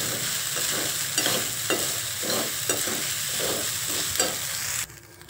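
Sabudana and roasted peanuts are stirred in a pan, with a repeated scraping of the spoon against the metal about every half second over a soft steady sizzle, close and moderately loud, cutting off abruptly near the end.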